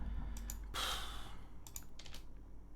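Quick bursts of clicking keystrokes on a computer keyboard, a few taps then a louder flurry and another short run, close and fairly quiet under a low steady hum.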